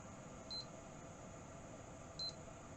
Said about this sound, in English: that beeping is a bit annoying.